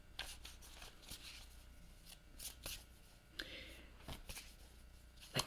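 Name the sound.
shuffling a tarot card deck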